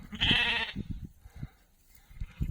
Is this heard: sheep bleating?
yes